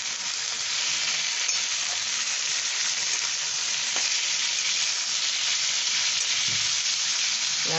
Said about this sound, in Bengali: এবার একটু নাড়িয়ে দিচ্ছি।